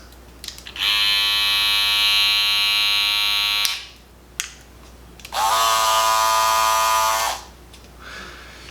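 An Andis Master Cordless Gold hair clipper buzzes loudly in two separate runs, each a few seconds long and sharply started and stopped, with a steady high-pitched motor whine.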